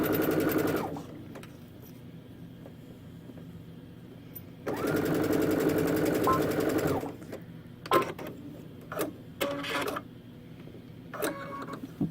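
A sewing machine runs a straight stitch along a backpack zipper in two sustained bursts of rapid mechanical whirring, followed by several short stop-start stitching runs and small clicks.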